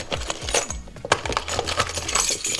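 A bunch of keys is dropped into a mid-range leather convertible handbag, giving a run of close metallic jingles and clinks that jostle and settle over a couple of seconds.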